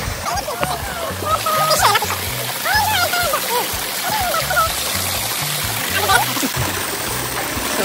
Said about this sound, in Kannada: ಕಾಯಿನ್ ತೊಳ್ಕೊಂಡು ಇಟ್ಕೊಳ್ಳೋದು.